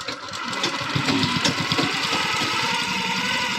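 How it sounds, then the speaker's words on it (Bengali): Sewing machine running steadily while sewing a double stitch, a fast, even mechanical chatter at moderate level that holds throughout without pause. "এই যে এভাবে মেশিন চলবে ডবল সেলাই হয়ে যাবে"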